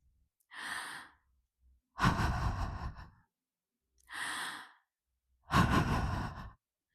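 A voice imitates heavy breathing, with two cycles of a sharp inhale followed by a long, rough exhale, close and fairly loud.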